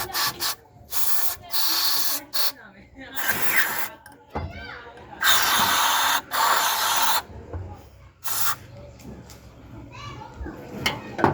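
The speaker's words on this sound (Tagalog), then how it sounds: "Spray natin yan." Several bursts of cleaner sprayed onto a Suzuki F6 carburetor being cleaned for hard starting, short hissing blasts repeated irregularly, with someone talking between them.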